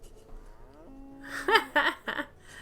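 Cattle in the village-building game Banished moo in a single drawn-out low call, followed by a few short, bright bursts of sound that could be more lowing, all fairly close and clear.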